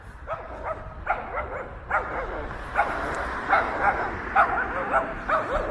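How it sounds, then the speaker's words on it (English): Small dogs on a residential street lined with apartment buildings in Toronto's Annex neighborhood bark and yip in repeated, sharp clusters, fairly close and persistent over faint street ambience. "angry little dogs."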